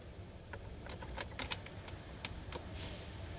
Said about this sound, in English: So we are going to put the bolt in.